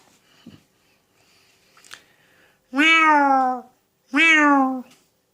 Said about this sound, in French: Mon chat est fâché.